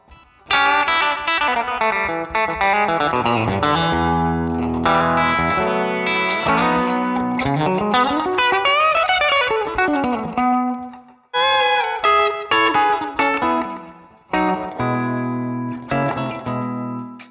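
Clean, twangy electric guitar through a country deluxe amp preset picks out a melodic country phrase with strummed chords and slides, played alone with a touch of amp reverb.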